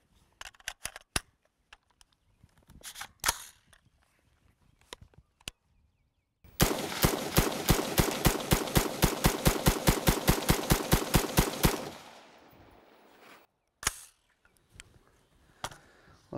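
A Stag Arms Model 8 rifle empties a full magazine in a fast, even string of about two dozen loud, close shots, framed by scattered mechanical clicks and handling noises before and after.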